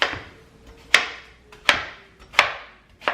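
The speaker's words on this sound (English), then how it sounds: "and then you just slice" A knife chops through watermelon on a cutting board, making four crisp, evenly spaced thuds with short, juicy crunches between them. The cuts are close and fairly quiet, with no voices.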